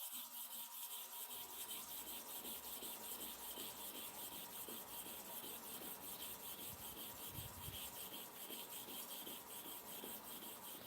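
A condemned, badly worn clipper blade is rubbed steadily back and forth across a sharpening stone, giving a continuous gritty scraping with rapid repeated strokes, close and loud, with no talking.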